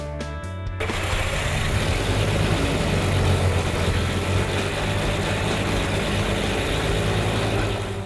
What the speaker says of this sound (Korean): 그럼 시동을 걸어 보겠습니다.